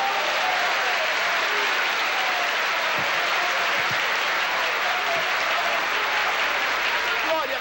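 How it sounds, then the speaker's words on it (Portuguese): A church congregation applauding at a service, sustained, dense, even clapping from many hands throughout, loud and full, with voices faintly underneath. "Palmas para o Senhor Jesus"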